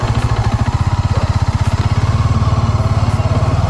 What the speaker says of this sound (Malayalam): നമ്മളിപ്പോൾ ഡൊമിനാറുണ്ട്, അത് ഓടിച്ച് കാണിച്ചു തരാം